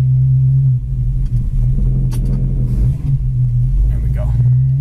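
A 1935 Ford's engine runs at a steady low idle, a close, loud rumble that holds even throughout, with a person talking over it.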